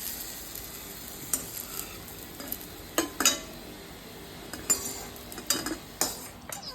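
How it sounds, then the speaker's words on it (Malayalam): Brinjal frying in hot oil in a pan while being stirred, a steady fine sizzle broken by sharp scrapes and clinks of the spoon against the vessel at irregular moments, close and fairly loud, with no talking. "ആദ്യം തന്നെ ഞാൻ പാത്രത്തിലോട്ട് കുറച്ച് എണ്ണ ഒഴിച്ചിട്ട് വഴുതനങ്ങ ഒന്ന് ചൂടാക്കി എടുക്കുന്നുണ്ട്"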